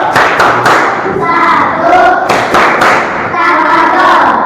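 A group claps a tepuk tafadhol rhythm, loud and close, with repeated bursts of patterned claps and thumps and a crowd murmuring throughout.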